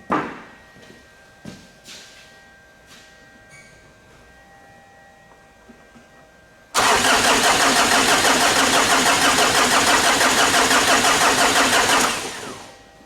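A few faint clicks and thumps, then a long, loud grinding crank from a Ford Ranger / Mazda BT-50 engine with a weak battery that churns steadily for several seconds before cutting off without the engine catching.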